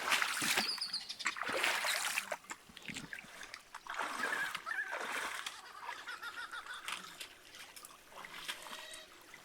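Footsteps splashing through a shallow river in Lerderderg Gorge, with repeated watery sloshes and splatters close by, rising and falling in uneven bursts across the whole stretch.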